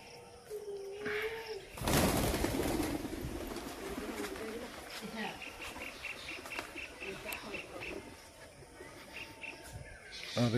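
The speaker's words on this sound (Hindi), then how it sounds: "सुबह उठ के वो कबूतरों को खाना डालती है, चावल देती है, तो खाने के लिए आते हैं।" Pigeons coo softly while feeding on rice amid a busy outdoor background, with chirps, fluttering and a burst of wingbeats or shuffling early on.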